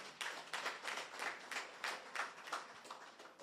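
A small crowd at an outdoor political cottage meeting in Chaguanas West claps in rhythmic, fairly distant bursts, the applause pulsing steadily and faintly.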